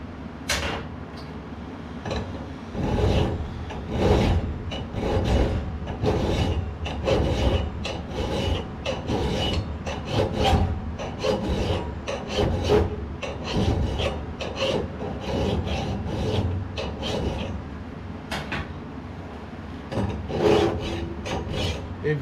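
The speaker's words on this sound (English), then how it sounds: "This is a hardened file" Steady rasping strokes of a hardened metal file scraping across steel while making a sword, repeated in a quick, even rhythm, close and fairly loud with no talking.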